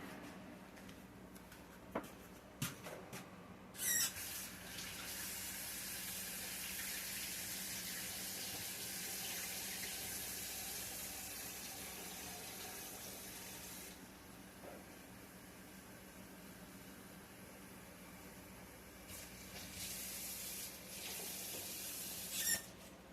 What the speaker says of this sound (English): let me rinse this broccoli off and I'll be right back